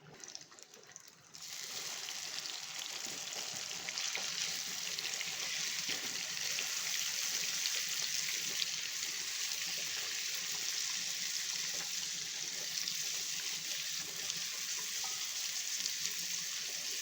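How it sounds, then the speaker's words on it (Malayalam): Prawns sizzling in a pan, a dense steady hiss that starts suddenly and holds evenly for the whole stretch, close and loud, with no talking over it. "ഇനി നമുക്ക് കൊഞ്ച് വറുക്കാം കേട്ടോ"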